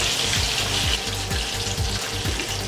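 Rui fish pieces fry in a pan, with a loud, constant bubbling sizzle and faint spatters, no voices.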